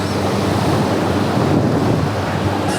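Heavy ocean surf crashes and churns continuously at a Bali beach, loud and close, with gusting wind buffeting the microphone.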